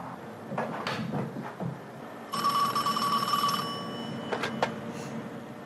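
A telephone bell rings once, a bright trilling burst of about a second and a half, close and clear over some shuffling and clattering room noise before and after.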